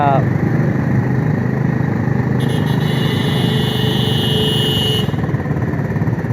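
Busy street traffic in a Saigon market area, a steady close wash of motorcycle engines buzzing and idling, with a brief higher whine partway through and a voice talking over it.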